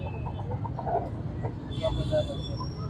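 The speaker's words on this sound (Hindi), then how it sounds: "मुर्गे हैं, ठीक है।" Soft clucking from Aseel roosters nearby at a rooster market in Multan, under a low, steady rumble, with a few brief higher calls mixed in.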